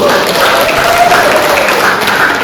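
Crowd applause breaks out at an evening village gathering, a loud, sustained wash of clapping from many hands with a faint voice briefly sounding beneath it.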